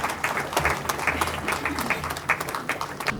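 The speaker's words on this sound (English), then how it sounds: "we give the High Commissioner another big round of applause" An audience at a business event on sourcing products from India applauds the High Commissioner with dense, steady clapping that holds at an even level.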